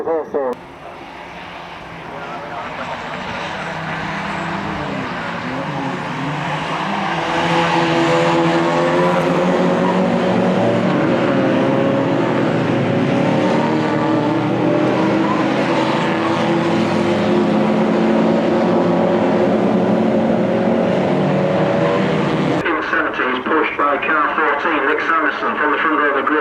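Ford Fiesta XR2 race cars lap Croft circuit in a Scottish championship race, engine noise rising to a loud, sustained roar that holds steady under a commentator's voice before cutting abruptly near the end.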